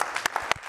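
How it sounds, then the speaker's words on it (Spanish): Brief burst of applause for sensei David Martínez at the close of a chair abdominal workout session, a few distinct claps standing out over a soft, thin spread of clapping. "El aplauso para"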